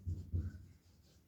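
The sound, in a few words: writing a date on paper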